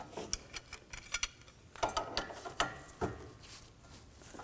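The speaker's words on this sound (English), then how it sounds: "Now I'm going to use a 18mm socket, tighten this down." An 18 mm socket wrench ratchets in quick, uneven bursts of clicks while tightening a tie rod stud nut on a 2011–2014 Chrysler 200, quiet and close, with short pauses between strokes.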